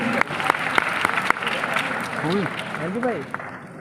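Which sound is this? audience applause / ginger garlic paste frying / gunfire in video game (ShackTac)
audience applause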